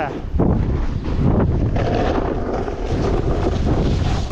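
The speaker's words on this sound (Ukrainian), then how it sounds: "Сьогодні трошки вітряно, передають на поривах 22 метри в секунду. І це штормовий вітер" Strong gusty wind, gusting to 22 metres per second at the Bukovel ski resort, buffets the microphone, a loud rough rumbling roar that surges and eases without pause.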